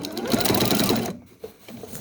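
Sewing machine stitching through a quilt sandwich of scrap fabric, a steady dense whir for about a second before it stops, followed by faint handling noises.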